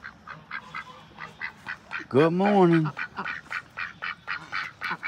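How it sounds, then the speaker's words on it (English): A baby duck quacks in a clear, fairly loud burst midway, among a steady run of short, regular chirping calls and under a person's talking nearby. "What's my baby duck doing?"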